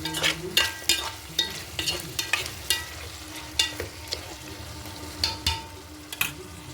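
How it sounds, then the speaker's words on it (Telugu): Chicken curry sizzles in a pan while a spoon stirs it in periodic scraping strokes, each stroke a sharp clink over a soft frying hiss, close and without voices. "కూర ఒకసారి తిప్పుకున్నాం"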